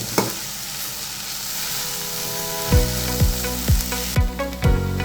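Onions and tomatoes frying in a pan while being stirred for a soya bean masala curry, with a steady sizzle underneath and, in the second half, a series of sharp, regular utensil scrapes and knocks against the pan.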